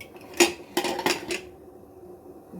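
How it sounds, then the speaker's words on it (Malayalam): Pressure cooker being opened while cooking chicken biryani: a few sharp metallic clanks of lid and pot in quick succession, then quiet, fairly faint and close. "അപ്പോൾ ആ സമയത്ത് നമുക്ക് കുക്കർ തുറക്കാം."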